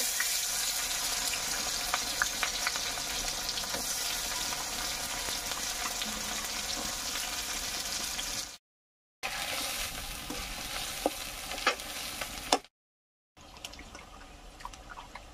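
Bay leaf and cinnamon fry in hot oil with a steady, close sizzle and scattered pops, cut off twice by brief silences, with no talk.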